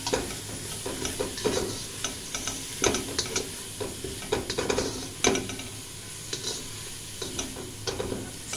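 Red chilies and turmeric stir-fried in hot oil for a curry base: a soft sizzle under frequent scraping and clattering strokes of a spoon against the pan, close and irregular.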